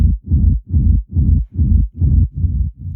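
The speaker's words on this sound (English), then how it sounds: "Now let's make the rumble." Techno rumble bass built from the kick drum, pulsing in a steady four-on-the-floor rhythm with seven or eight loud, boomy low thumps that swell and drop between hits, alone with no talk.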